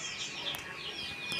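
Chickens waiting for feed in a backyard cluck softly, with faint chirpy calls over a steady, slightly hissy background.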